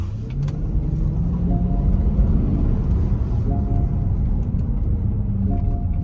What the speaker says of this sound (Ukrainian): Набирає автомобіль швидкість дуже добре, приємний звук двигуна.